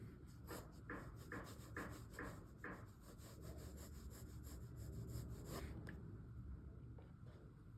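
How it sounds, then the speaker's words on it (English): A soft 7B graphite pencil scratches across paper in quick rhythmic strokes while detailing a portrait sketch. The strokes are faint and close, then give way to slower, quieter shading. "I'm using a 7B pencil and I'm going over the initial sketch to draw the details"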